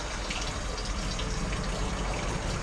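Ready-made custard pours from a tin into a glass for a quick trifle, a continuous, close, thick liquid gush that runs unbroken from start to finish.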